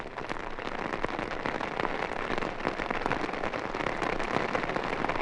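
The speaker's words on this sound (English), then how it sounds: "Or the night-long drizzle drumming on your poncho." Steady night-long drizzle drums on a poncho in a dense, even patter of close raindrops during the monsoon in Vietnam, continuous and fairly quiet with no voices.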